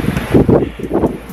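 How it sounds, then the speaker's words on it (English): Wind gusts buffet the microphone beside the sea on a sandy coastal walking track, in three loud rushing bursts with a rustle in between. "we're right next to the coast. It's windy"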